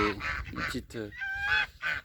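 Young barnacle geese give several short, nasal honks in quick succession at close range, with brief gaps between calls and no other sound standing out.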